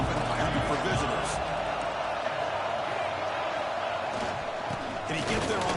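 Stadium crowd at a college football game, a continuous broad roar of many voices filling the space, steady and fairly loud with faint swells, heard alone without nearby speech.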